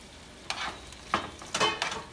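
Chopped onion goes into a pan of homemade french fries, bringing a few bursts of close stirring and sizzling frying over a low steady crackle, with no talk.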